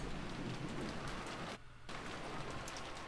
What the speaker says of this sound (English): Only the sound of the wind and rain remained